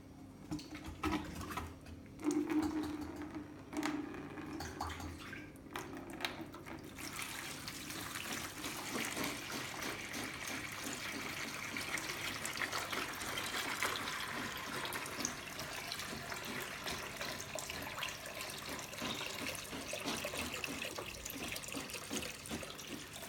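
Water drains out of a fish aquarium in a steady, continuous trickling flow that holds fairly even for over twenty seconds, preceded by a few seconds of quieter handling noise.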